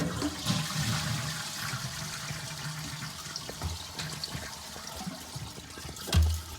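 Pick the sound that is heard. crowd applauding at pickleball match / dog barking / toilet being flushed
toilet being flushed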